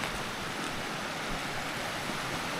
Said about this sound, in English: Found another little creek.